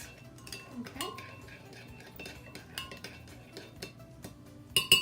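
Spoon stirring a coconut turnover filling or dough mixture in a bowl, light metallic clinks and scrapes repeating irregularly, close and fairly quiet, with a few sharper knocks near the end.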